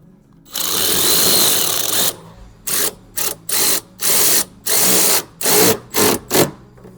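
A power tool driving bolts into a Mercedes bumper during installation, one long whirring run followed by a string of short, loud bursts of motor buzz with brief pauses between them, close up.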